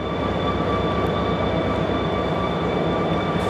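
A B&O GP30 diesel locomotive idles nearby, a steady, dense rumble with faint high tonal whines held evenly from start to finish, no voices.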